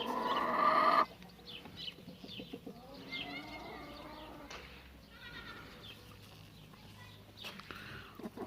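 An Indian game rooster clucks and calls in short bursts amid other farm animal noises, following a loud rustling burst at the start.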